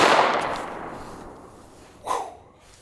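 A Kriss Vector .45 ACP submachine gun fires two single shots, a sharp loud crack at the start with a long decaying tail, then a second softer report about two seconds later.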